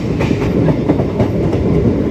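A MEMU passenger train running on the tracks between Masagram and Bankura, a loud rumbling roar from inside with rhythmic clickety-clack wheel beats.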